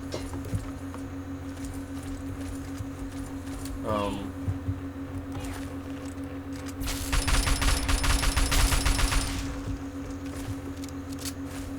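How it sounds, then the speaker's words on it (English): A sentry bot's Gatling laser in Fallout 3 with the Point Lookout Reborn mod fires one rapid buzzing burst of about two seconds, midway through, over a steady low background hum with a brief voice-like sweep shortly before. "I heard a Gatling laser, which is why I say it's a sentry bot."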